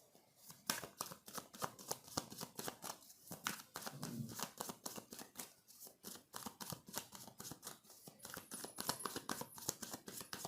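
Tarot cards shuffled by hand in a steady run of rapid crisp riffling snaps for about ten seconds, close and fairly loud with no voices.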